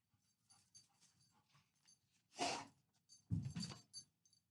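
A dog makes soft whimpers and snuffling sounds, followed by a couple of louder bursts of panting or huffing, close by and otherwise quiet.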